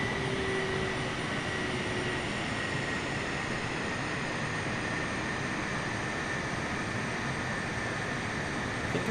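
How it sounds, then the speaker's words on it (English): A steady, even drone of an aircraft flying on autopilot in Microsoft Flight Simulator, a dense continuous roar with a faint thin whine over it, unbroken and without talk. "Now we'll see how Otto flies this aircraft."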